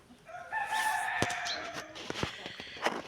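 A rooster crows among a flock of chickens, including a bearded breed with fluffy faces, a loud close crow followed by clucking and scuffling, with some background voice.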